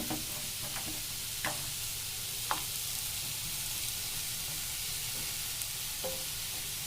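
Halved tomatoes, green chillies and garlic cloves sizzle and fry steadily in a hot pan, a continuous hiss with a few faint pops and clicks, close and moderately loud, no talking.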